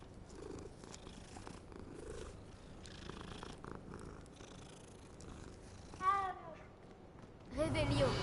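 A small cat purrs steadily and softly at close range, a low continuous rumble, with a couple of brief vocal sounds near the end.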